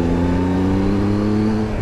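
A 2018 Triumph Tiger 1200 motorcycle engine runs steadily in sport mode, a loud, close, continuous rumble with strong low harmonics holding an even note throughout, no voices.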